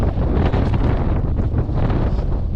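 Strong wind on a frozen taiga lake in winter blows hard and continuously, roaring and buffeting the microphone up close with no pauses.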